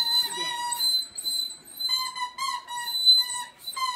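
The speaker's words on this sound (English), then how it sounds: "there's your whistle" A child's toy whistle blown in several short, shrill, piping tones, with brief gaps between blasts and no talking.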